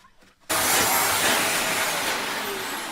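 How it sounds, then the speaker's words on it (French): A loud, steady broadband roar starts abruptly after a brief quiet moment and continues without pause, like a vacuum cleaner running close by. "On peut aussi passer l'aspirateur."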